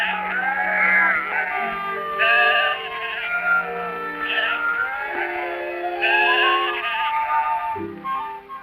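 A flock of sheep bleats in Australia, a wool-producing country running over 150 million sheep, with overlapping calls rising and falling near and loud through the whole stretch and no talk.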